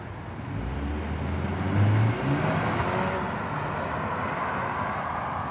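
A 2026 BMW 530i drives and accelerates, its engine note rising as a low steady hum and whir that swells briefly near the middle before settling, with continuous road noise and no talking.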